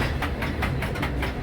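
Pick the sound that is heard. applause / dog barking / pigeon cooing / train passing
train passing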